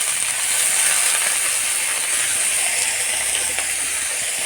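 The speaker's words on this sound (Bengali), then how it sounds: "এবার আমি এতে দিয়ে দেব সেই মুসুর ডালটা" Washed red lentils go into a hot pan of fried onions, raising a loud, steady sizzling hiss that holds evenly throughout with no voices.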